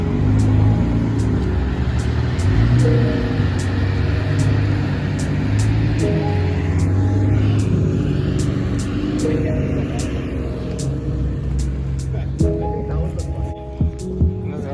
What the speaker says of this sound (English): Another R34 twin turbo.